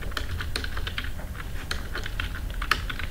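Rapid, irregular clicking of keys on a computer keyboard while code is typed, close and steady with no talking.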